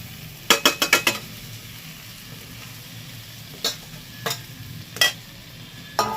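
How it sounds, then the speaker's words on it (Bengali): Fried soybean chunks stirred through prawn masala in a pan, a run of quick close utensil scrapes and clacks followed by a few spaced single knocks over a low sizzle. "এবার সয়াবিনটা দিয়ে একটু মশলার সাথে কষিয়ে নেব"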